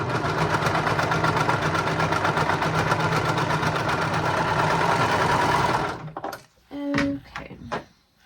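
A sewing machine stitches romper fabric in a fast, steady mechanical whir for about six seconds, then stops, followed by a few short clicks and handling noises close by.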